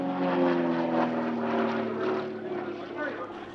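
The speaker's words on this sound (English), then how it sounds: "The extra 300S is probably the ultimate airshow and competition aircraft from the 300 series" An Extra 300S aerobatic propeller plane performs at an airshow, its steady droning engine tone loud and sustained throughout, with a crowd or commentary murmur mixed in beneath.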